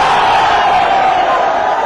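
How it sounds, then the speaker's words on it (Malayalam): A large crowd roars and cheers for actor Dileep at the inauguration of the Kottayam flower show, a loud, dense wall of voices that holds steady throughout. "അധികനേരം പ്രസംഗിച്ചില്ലെങ്കിലും താരത്തിന്റെ ഓരോ വാക്കിനും നിറഞ്ഞ കയ്യടിയും ആരവവും"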